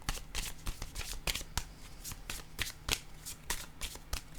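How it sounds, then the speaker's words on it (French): Cards being shuffled during a card reading: a close, continuous flurry of papery riffles and sharp snaps, irregular but steady for several seconds, with no talking over it. "Je vais piger une autre carte."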